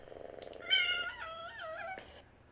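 Meowing from a cat sound font on a SaberForms Anakin Skywalker lightsaber: a faint low hum, then a drawn-out wavering meow, clear and close, ending with a small click.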